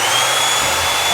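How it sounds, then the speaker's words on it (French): A belt sander runs steadily on a wooden piece being rounded off, a loud continuous whirring grind with no break, heard close up and alone. "Donc là on a une ponceuse à bande."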